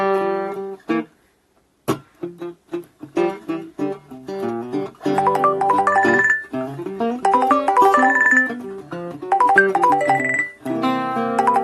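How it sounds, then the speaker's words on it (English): A phone ringtone chimes repeatedly at steady intervals of about two seconds, mixed in with melodic instrument playing at close range. "phone is ringing"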